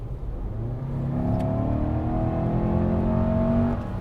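A 2-liter four-cylinder turbo Lexus NX300 F Sport accelerates hard, its engine note rising steadily in pitch for about four seconds, loud and close from inside the cabin, with no talking.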